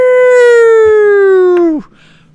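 A single loud, steady siren tone that slowly slides lower, then drops sharply and cuts off, leaving near silence.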